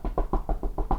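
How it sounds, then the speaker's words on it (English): Seven quick knocks on wood, evenly spaced and close, sharp dull raps in a steady rhythm with nothing else around them. "knock on wood."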